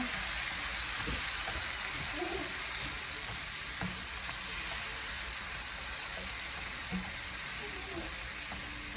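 Onions fry in a pan with a continuous crackling sizzle, a close and even hiss broken by light scrapes and taps of stirring.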